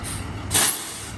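A delivery truck arriving with a short, loud hiss of air brakes midway, over a steady low engine rumble.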